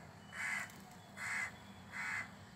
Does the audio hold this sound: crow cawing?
yes